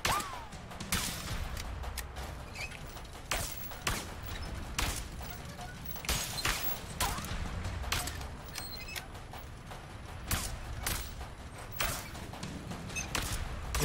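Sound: gunfire shooting out lights in video game A Way Out

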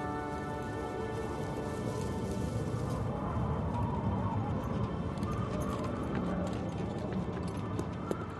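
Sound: horse hooves clip-clopping

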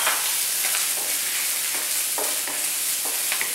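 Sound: minced ginger and garlic frying in oil with cloves

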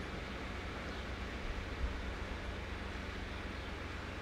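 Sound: electric fan running in the background

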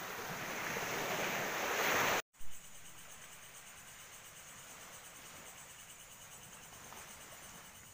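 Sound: sea waves on the shore

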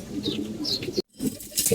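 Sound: pigeons cooing

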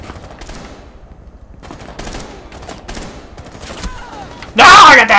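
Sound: gunfire in video game Rainbow Six Siege

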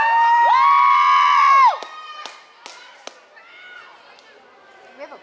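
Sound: crowd cheering at girls' soccer match

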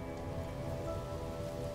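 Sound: rain falling in the video game No Man's Sky

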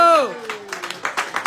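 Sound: audience applause for Khaled

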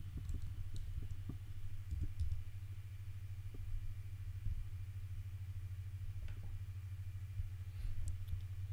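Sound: typing on a computer keyboard

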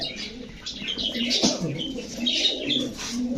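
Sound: pigeon handled, wings flapping

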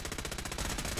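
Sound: gunfire in the video game Fallout 4

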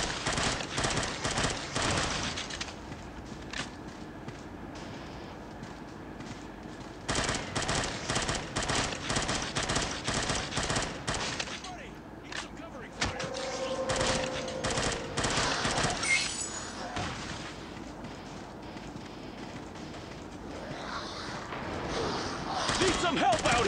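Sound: machine gun covering fire in video game Unkilled

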